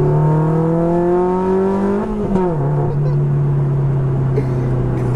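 Supercar engine and exhaust heard from inside the cabin at a 2016 supercar meet, a loud steady drone that dips and recovers mid-way as revs shift, then holds an even tone.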